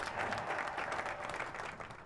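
A crowd applauds in the Hearts of Iron Kalterkrieg mod, a short, faint burst of dense clapping that holds steady.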